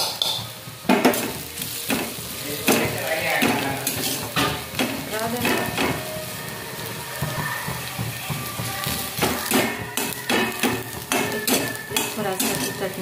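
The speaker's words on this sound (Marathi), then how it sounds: "इथे आपला कांदा गोल्डन झालेला आहे, तर आपण कुरासणीची चटणी टाकून घेत आहोत" Golden fried onions sizzle in a pan as niger seed chutney goes in, with steady stirring and repeated metal scrapes and clinks of a spoon against the pot, close and continuous with no talk.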